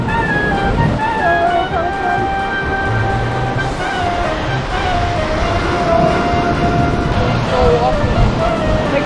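Ocean surf washes onto a beach on a Mexican island with a continuous broad roar, loud and close, with wind buffeting the microphone.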